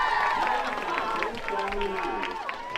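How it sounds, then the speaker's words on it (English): Crowd noise rises steadily under a commentator's voice at a high school varsity homecoming football game, White Swan against Highland, after a first down for the Cougars, a continuous outdoor roar lasting throughout. "Hey, the crowd is waking up out here."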